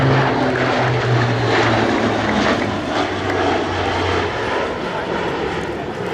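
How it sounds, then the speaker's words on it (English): Canadian Forces Hercules propeller transport aircraft, flown by 436 Squadron, make a loud, steady fly past at the Abbotsford Airshow, with a droning multi-engine propeller roar lasting throughout and a public-address voice talking over it. "From the left, our Hercules 4th fly past."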